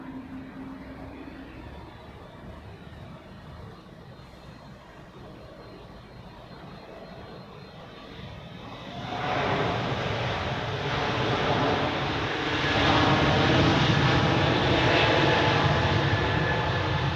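An Air Baltic airliner on the runway at Zurich Airport, with a steady engine drone heard from a distance that swells into a loud, broad roar partway through as the jet powers up.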